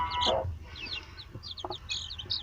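Young chicks and grown chickens of mixed sizes in a coop cheep and cluck, with repeated short high peeps scattered throughout and a few lower clucks, fairly close and moderately quiet, no talking.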